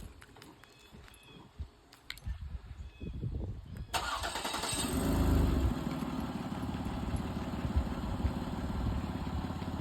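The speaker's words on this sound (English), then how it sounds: "So it has remote start" A 2009 Ford Escape Limited with a new Y-pipe and exhaust fires up by remote start about four seconds in after quiet clicks and rustles, then settles into a loud, steady idle close by.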